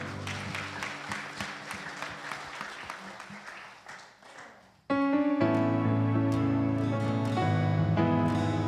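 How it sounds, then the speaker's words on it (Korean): A Korean congregation applauds during a Sunday worship service at a Las Vegas church, several seconds of crowd clapping fading away before music with sustained tones takes over abruptly. "주님께 영광의 박수 올립시다"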